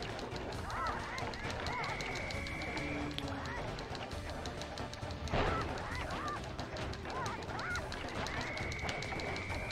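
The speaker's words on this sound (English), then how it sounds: "The chickens is my least favorite minigame." Honking, goose-like chicken calls from the Sly 1 video game's chicken minigame ring out repeatedly over busy game sounds and a talking voice, with a sharp impact near the middle.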